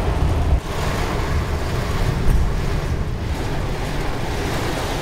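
Heavy monsoon rain pouring down in Bilaspur city, India, in a loud, steady roar that stays constant throughout.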